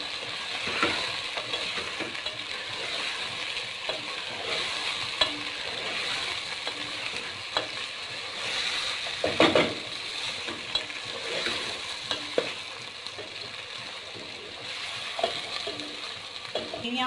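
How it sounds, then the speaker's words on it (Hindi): A biryani mixture fries and gets stirred in a pan: a steady broadband sizzle runs throughout while a spoon scrapes and clanks against the metal at irregular intervals, close and fairly loud, with no talking. "तो 2 मिनट फ्राई करेंगे"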